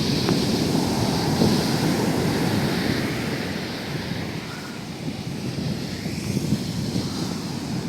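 Sea waves washing in at Chembirikka beach on a cloudy, calm morning, a steady low rumbling surf with soft wind buffeting the microphone, ebbing slightly midway before swelling again.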